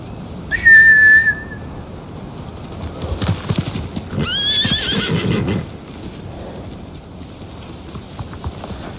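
Horses in the Ghost of Tsushima video game give a loud, close whinny, then a second shrill neigh and a burst of hoof clatter a few seconds later, with no talking.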